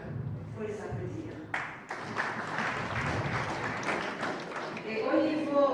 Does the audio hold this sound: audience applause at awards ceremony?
yes